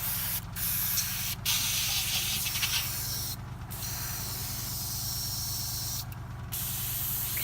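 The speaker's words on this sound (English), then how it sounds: "I could use the airbrush to dry the model in a minute." An airbrush blows plain air, with no paint, to dry varnish on a painted model bust, making a steady close hiss that cuts out in several brief gaps.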